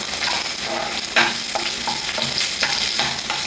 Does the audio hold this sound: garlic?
yes